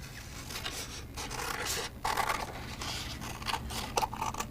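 Scissors cutting out a paper tree shape, a series of crisp snipping and scraping strokes close by, irregular cuts over a few seconds with no voices.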